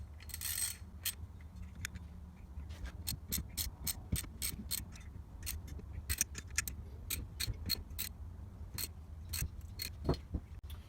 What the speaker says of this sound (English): All we do is tighten the nuts.